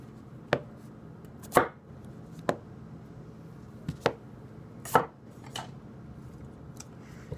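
A Tanaka Ginsan gyuto knife chops potatoes on a board, about six sharp, separate knocks spaced irregularly over a quiet background.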